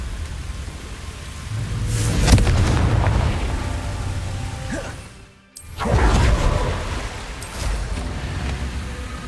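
Spell blasts from Confringo in the video game Hogwarts Legacy: whooshing, explosive bursts rise over a dense hiss of background noise, then a brief near-silence before another loud blast.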